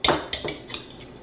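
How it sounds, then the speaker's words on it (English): A knife chops hot and spicy dill pickles on a board: four close, crisp knocks in an uneven rhythm, the first loudest, with no talking. "I'm gonna chop these up."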